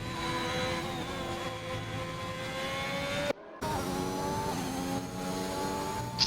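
Onboard F1 car engine in the F1 2021 game on a lap at Silverstone, a continuous high, loud whine that rises and falls through gear changes, with a brief gap midway and light tire noise.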